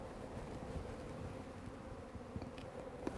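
Honey bees buzz around a hive that has just been moved to a new position, a low, steady drone of many insects, fairly quiet and continuous with faint scattered knocks.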